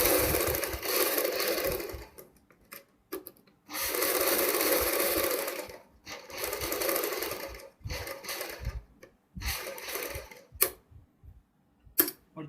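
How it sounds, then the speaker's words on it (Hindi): A sewing machine stitches along piping on a V-neck garment in several close bursts, starting and stopping with short pauses between runs of rapid needle chatter. "साथ साथ में एक सिलाई लगा लेंगे।"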